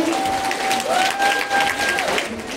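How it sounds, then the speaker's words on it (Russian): Audience applause at a primary school graduation ceremony, a steady dense wash of clapping from a hall crowd, with a faint sustained tone running over it. "Зрительный зал, бурные овации."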